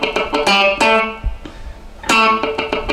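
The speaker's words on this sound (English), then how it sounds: "it's those little clicks in between that are so important to the rhythm of funk" Funk electric guitar riff through an effects unit, with ringing chords broken up by sharp muted dead-note clicks that keep a syncopated rhythm; loud, close and played alone with no talking.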